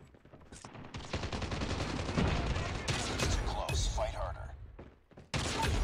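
Gunfire in the mobile shooter Call of Duty Mobile, a dense run of rapid shots and thuds over several seconds, loud and continuous with brief gaps, mixed with game ambience and a voice talking over it.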